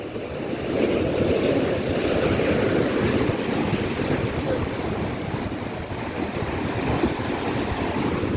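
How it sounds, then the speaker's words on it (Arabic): Heavy surf roars continuously by Qaitbay Citadel, high waves breaking and washing with a dense rumble, mixed with wind buffeting the microphone. "الموج عالي شوية بس جميل الصراحة"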